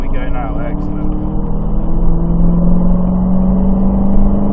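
A Dodge Challenger Hellcat accelerates away from inside the car, its engine drone rising steadily in pitch and strength while someone talks over it.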